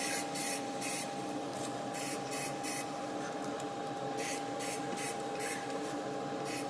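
Airbrush or paint sprayer hissing steadily while painting a customized International Harvester toy tractor, with repeated short bursts and spurts standing out over a continuous close, loud spray noise, no talking.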